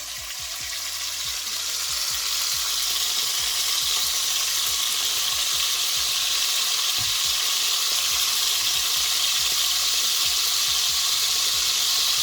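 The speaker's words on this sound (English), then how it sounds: "I believe the oil is hot enough now, so I'm gonna drop the bacon in" Bacon frying in hot oil in a wok-style pot makes a loud, continuous crackling sizzle that swells after the start and holds steady, with scattered pops and no talking.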